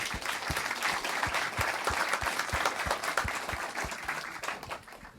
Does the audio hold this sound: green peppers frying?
no